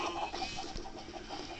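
Minecraft chickens cluck softly and repeatedly at a distance, a faint scattered clucking with no talking.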